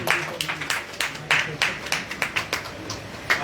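At an award ceremony held with a book launch, a small audience claps in quick, uneven, close-sounding strikes that continue steadily for a few seconds.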